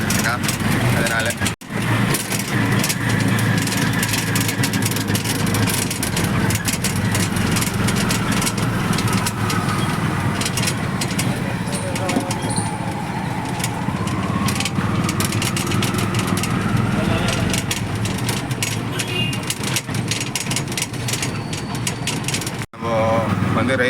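An auto rickshaw engine drones steadily throughout, close and continuous, with road noise and a busy street around it.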